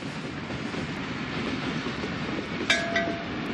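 A train rolls past on a Pakistani railway line, a steady loud rumble with rhythmic clickety-clack of the wagons, broken near the end by a brief metallic clink and squeal.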